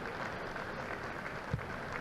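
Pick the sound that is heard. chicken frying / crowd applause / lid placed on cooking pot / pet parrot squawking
crowd applause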